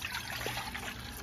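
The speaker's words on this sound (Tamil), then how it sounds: "சுடுதண்ணி ஒரு ஒன்றரை டம்ளர் போட்டு" Hot water pours for cooking China grass sweets in a home kitchen, a soft continuous trickling splash that is fairly quiet and lasts the whole brief moment.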